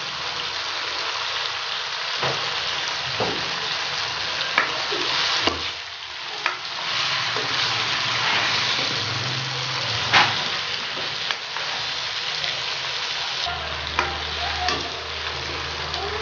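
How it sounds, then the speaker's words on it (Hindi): Karahi masala fries with salt in a pan, a steady close sizzle with intermittent scraping stir strokes over about sixteen seconds, no voices. "नमक डालकर फिर इसे फ्राई करेंगे।"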